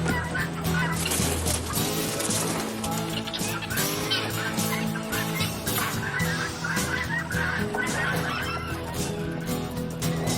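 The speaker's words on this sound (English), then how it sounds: "It's time to get back in there and chase chickens." A dense, noisy chorus of squawking and honking chickens and other fowl, around 200 birds calling over one another continuously and close by.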